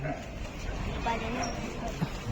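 A dog barks a few times in a sound-equipment warehouse, short yelps that stay under steady, busy talk and background noise.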